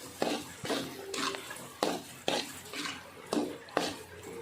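A spatula scrapes and knocks against a pan while peanut sauce seasonings (palm sugar, tamarind, salt, beef and mushroom stock) are stir-fried, about eight sharp strokes in an uneven rhythm, close and clear.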